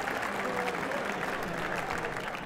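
Crowd at the Canary Wharf Classic squash tournament applauding and cheering in a steady, dense wash of claps that stays continuous throughout, heard from within the arena.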